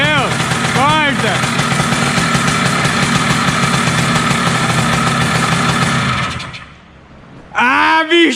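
Honda Titan 150 motorcycle converted to a two-stroke engine, revving hard and loud and close for about six seconds with a buzzing, rising and falling tone, then cutting out; people talk near the start and at the end.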